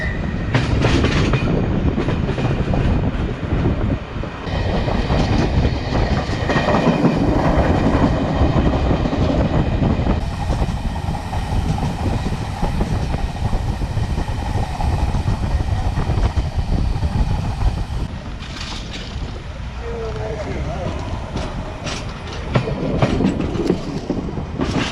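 A train in Tunisia rumbles past at a railway crossing, a loud continuous roar of wheels and carriages with rhythmic clatter, slowly easing as it slows down.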